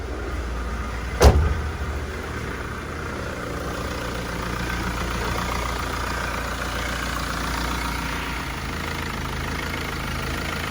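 A jump-started Mahindra Scorpio idles with a steady low engine rumble, preceded by a brief sharp click or clunk near the start, with no talk over it.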